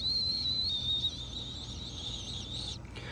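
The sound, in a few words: pool autofill valve running water, short whistle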